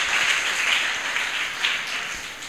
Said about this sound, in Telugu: చప్పట్లు కొట్టి దేవుని నామాన్ని కనపరుద్దాం.